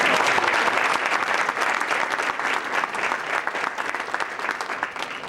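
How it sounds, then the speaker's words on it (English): Steady, loud applause from a large crowd, sustained clapping that holds for several seconds without pause. "that deserves another round of applause"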